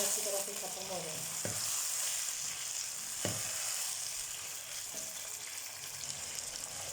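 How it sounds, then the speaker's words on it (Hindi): Chicken sizzles and fries in garlic ginger paste for a chicken bhindi gosht dish, with a steady close crackle under occasional spoon stirs and scrapes and no talk. "चिकन को इसके साथ अच्छी तरह से भूनेंगे"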